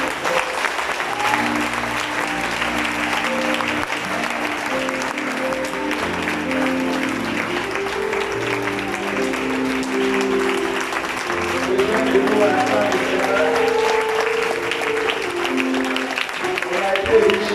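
A church congregation at an evening service bursts into sustained, loud applause to acclaim the Lord, the clapping dense and continuous with voices rising underneath.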